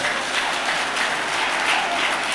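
A conference audience at an accountants' meeting during a presidential candidates session claps in a loud, dense, continuous round of applause.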